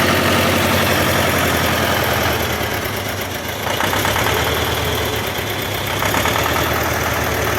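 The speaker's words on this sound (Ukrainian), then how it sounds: "Тракторець хороший." A tractor engine idles loudly and close, a steady low rumble with a rhythmic knock, no talking.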